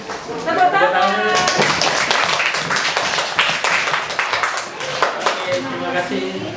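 Children at a school workshop clap together in a dense, uneven burst that lasts several seconds, with young voices chattering and calling out over and between the claps.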